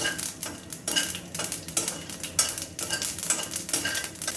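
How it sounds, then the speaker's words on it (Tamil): Mustard seeds spluttering in hot oil, a dense run of sharp crackles and pops close up, mixed with metallic clinks of a utensil against the pan. "கடுகு பொரியட்டும்"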